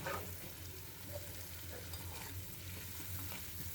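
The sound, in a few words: egg frying and being stirred in a pan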